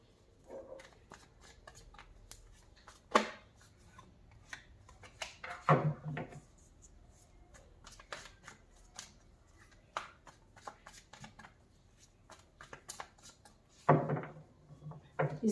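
A tarot card deck is shuffled and cut, with soft riffling and flicking of cards broken up by a few louder slaps and knocks, close by and intermittent across the stretch.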